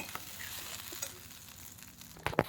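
Garlic, green chili, ginger, curry leaves and drumstick leaves sauté in hot oil, giving a soft, steady sizzle and frying hiss with a few faint stirring clinks near the end and no talk.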